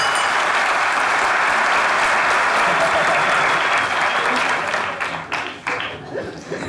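A studio audience at a comedy show bursts into loud, dense applause that holds strong for several seconds before breaking up into scattered claps and fading.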